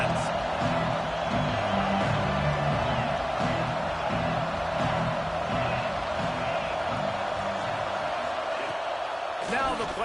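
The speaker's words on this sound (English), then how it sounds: "Listen to this crowd just shaking the girders of this place trying to help their defense" A stadium crowd roars steadily in a college football video game, Washington against Georgia, as a dense, continuous wash of noise under a commentator's play-by-play talk.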